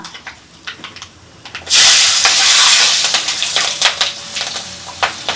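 Green chillies and mustard seeds drop into hot oil and burst into a loud, close sizzle that settles into steady frying with small crackles and pops, no voices heard.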